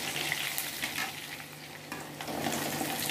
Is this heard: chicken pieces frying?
yes